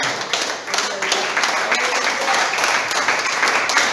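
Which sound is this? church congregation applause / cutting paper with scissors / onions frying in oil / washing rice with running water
church congregation applause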